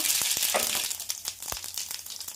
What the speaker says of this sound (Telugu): ఆయిల్ వేడైంది దీనిలోకి ఆవాలు